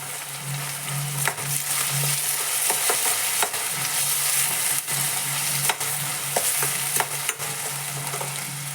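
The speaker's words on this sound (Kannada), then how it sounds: "ಸ್ವಲ್ಪ ಕೊತ್ತಂಬರಿ ಕರಿಬೇವು ಹಾಕಿದ್ವಿ." Coriander and curry leaves frying in a pan for upittu, a steady loud sizzle with stirring scrapes and clinks on top, continuous throughout with no talking.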